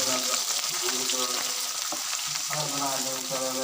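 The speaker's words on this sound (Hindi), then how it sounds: "इसको हम फ्राई करेंगे भिंडी को इस घी में" Okra fries in hot ghee with a busy, steady sizzle, punctuated by stirring and light clinks of a utensil against the pan, with a voice faintly present underneath.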